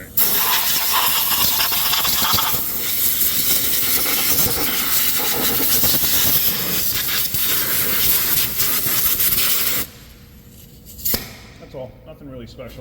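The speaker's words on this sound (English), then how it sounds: "Let me get an air gun for this, or an air blower, I should say." An air blower clears out engine parts during a valve cover job, a loud continuous close hiss that runs for about ten seconds and then cuts off, followed by quiet handling noises and a brief spoken remark.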